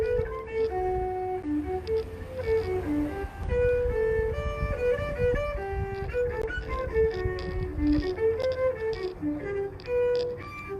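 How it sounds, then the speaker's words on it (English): A violin plays a melodic line in a high register, with sustained and moving notes carried over a fuller, lower backing throughout, moderately loud and with no talking. "So that's something like a violin."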